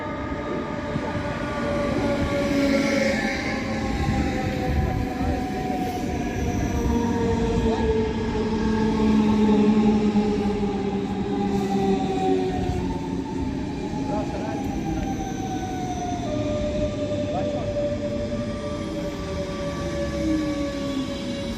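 A train pulls into Heidelberg main station, its wheels squealing in long, gliding tones over a steady rolling rumble as it slows along the platform, loud and close throughout.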